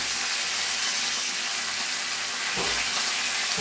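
A sprig of curry leaves sizzles and crackles in hot oil tempered with urad dal and cumin, a steady loud frying hiss with a brief burst of spatter near the end.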